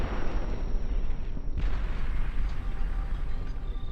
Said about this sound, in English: I think the extra explosions are a little unnecessary because why would shutting a countdown down cause things to explode?